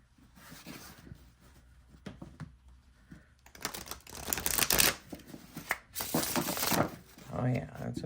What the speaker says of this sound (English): Oh, yeah, it's a beautiful shuffle.